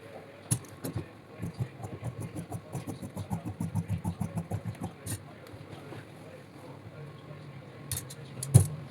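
Scissors snip through fabric being cut for a blouse, a quiet, regular series of short cutting strokes that quickens in the middle and then fades, with a couple of louder clicks and faint background noise.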